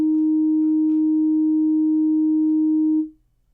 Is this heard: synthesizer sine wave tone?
yes